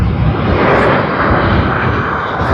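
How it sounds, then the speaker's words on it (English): A China Eastern Airlines Airbus A350 at Sydney Airport gives a loud, close, continuous jet roar with deep rumble, heard alone with no voices. "The A350 of China Eastern Airlines."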